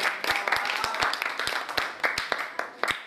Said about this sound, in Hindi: तालियां लगाओ।